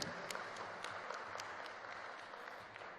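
Audience applause after a talk at a French theology lecture, a broad steady wash of clapping with a few sharper claps standing out, fairly quiet and continuing without a break, with no one speaking over it.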